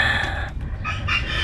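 A farmyard rooster crows once, close and clear, its strained, drawn-out call rising over faint background noise.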